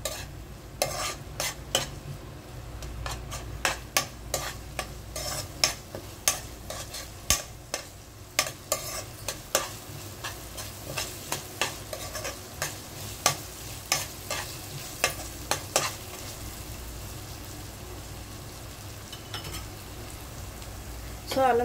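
Ginger garlic paste fries in a hot pan with a constant close sizzle, punctuated by a rhythmic series of sharp spoon scrapes and taps against the metal as it is stirred.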